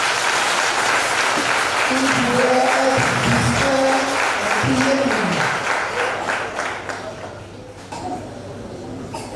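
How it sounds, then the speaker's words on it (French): A church congregation at a thanksgiving Mass applauds loudly and steadily, and the clapping slowly fades toward the end while a voice speaks over it. "je vous demande d'applaudir très fort"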